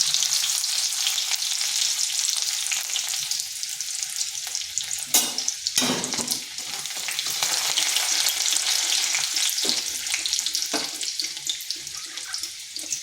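Chopped garlic sizzling loudly in whole-cumin-flavoured oil in a pan, a steady dense crackle broken by a few sharper stirring knocks midway, with no voices.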